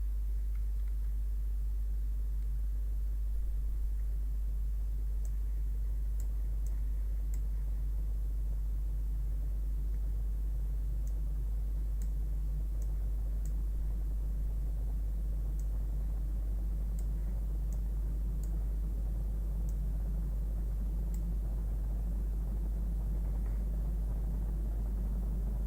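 In Kerbal Space Program, a spacecraft re-enters the atmosphere with its heat shield heating, making a steady deep rumble that holds for the whole stretch, broken by a few faint ticks, with no talking.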